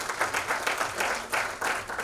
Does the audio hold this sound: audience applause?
yes